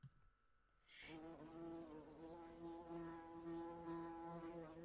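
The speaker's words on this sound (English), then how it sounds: "that's a sound effect of bees that I added to this graphic" A steady, droning buzz of bees that swells in after a brief quiet start and holds on continuously, fairly loud and close.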